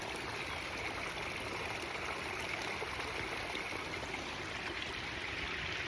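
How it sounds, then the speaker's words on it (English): A gentle waterfall trickles down steadily, a soft continuous broadband rush of flowing water with no pauses, moderately near and quiet, with no voices over it. "But you can actually hear the water,"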